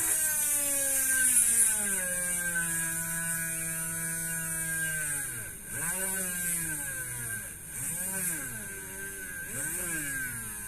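An electric drill with a 130 super motor, running hot, whines steadily with strong layered tones, then the pitch sags and recovers several times as the motor bogs down under load, over a constant background hum.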